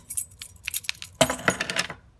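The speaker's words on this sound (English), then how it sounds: "my car keys." Car keys jangle up close, first in small light shakes, then a busier burst of bright metallic clinking before falling silent.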